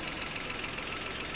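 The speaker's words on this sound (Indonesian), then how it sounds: "suara mesin mobil ini" A used car's engine idling steadily close by, a continuous mechanical hum with a faint rhythmic knock, no voices.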